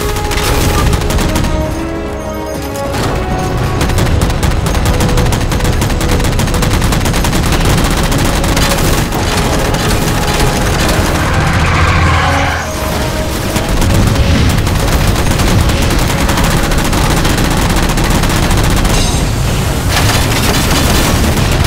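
Sustained gunfire fills a firefight against enemies in Halo 4, a dense, loud barrage of rapid shots and booms running continuously for over twenty seconds with brief dips, no talking over it.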